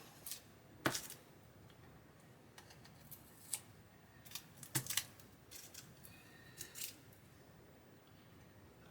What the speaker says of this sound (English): I need to get this tape out of here